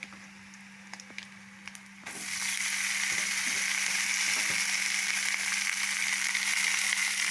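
Rice tipped into a hot pan of oil and stir-fried, setting off a sudden loud sizzle after a quiet start that then holds steady and bright, with faint scraping of the spoon mixed in.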